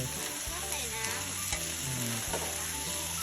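Sunflower sprouts stir-fry in oyster sauce, sizzling hard right after a splash of water hits the hot pan. Busy stirring and scraping run through a dense, continuous frying hiss with no voices.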